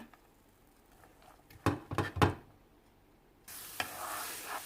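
Shallots stir-fried in a little oil in a pan for a Finnish ham pie, with a few sharp bursts of stirring and scraping followed by a steady, close sizzle.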